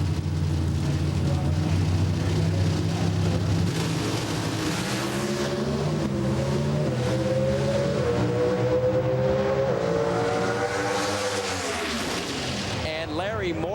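NHRA Pro Stock drag racing cars at the 2005 Ameriquest Mortgage Company Nationals launch and roar down the strip, a loud engine howl climbing in pitch through the gears, with a commentator talking over it.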